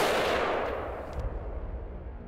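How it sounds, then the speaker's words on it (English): A single rifle shot fired while zeroing a Pulsar thermal optic for hog control rings out at the start and decays over about a second, with no talking. "Now we can take the second shot."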